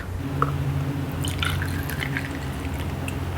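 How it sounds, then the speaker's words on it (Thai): Thai tea is poured into a glass, making light liquid splashes and drips with small scattered trickling sounds over a low background hum. "เดี๋ยวเราก็ใส่แก้วกันเลย น้ำชาไทยนะคะเราตวงมาที่ 2 ออนค่ะ"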